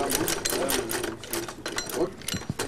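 A sewing machine runs close by at a tailoring training workshop, stitching in a fast, even chatter of needle strokes while people speak over it.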